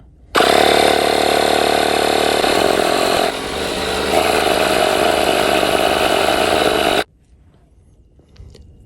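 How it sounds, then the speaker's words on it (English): A portable air compressor running from a Bluetti AC30 power station drones loudly and steadily for about seven seconds, shifting pitch slightly partway through, then cuts off abruptly. "I'm going to switch from the cooler to my air compressor here. And this powered up."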